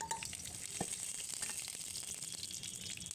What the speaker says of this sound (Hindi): इसमें मैं सरसों और सूखा मिर्चा डाल रही हूँ